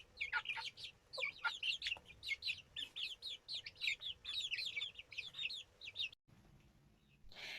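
Small chicks peep in rapid, high, repeated chirps, fairly close but soft, with a brief break before a last peep.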